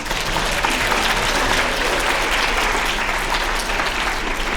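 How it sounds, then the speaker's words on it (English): An audience at a school writers' week event claps steadily, a dense, even wash of applause that holds at full strength for several seconds without a break. "let's clap for them one more time."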